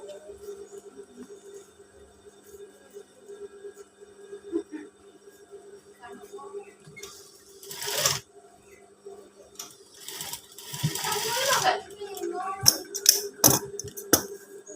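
A sewing machine stitches batik fabric for a shirt, running in short irregular bursts that grow busier and louder toward the end, close by, with stretches of quieter room sound between runs.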